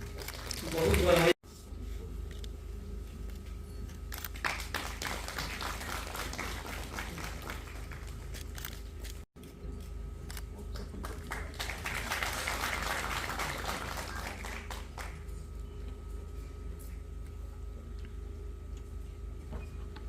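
An audience at a university convocation ceremony claps in sustained waves of applause, filling long stretches in a large hall while an announcer speaks over it.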